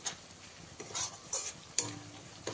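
Chili powder and spices being stirred in a hot pan for a fish roe curry, with soft scraping and sizzling strokes in a few short bursts, fairly quiet and close.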